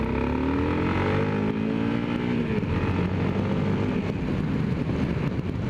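A Yamaha XT660R single-cylinder motorcycle accelerating hard, its loud engine note climbing steadily in pitch through the gears, heard close with rushing wind and no talking.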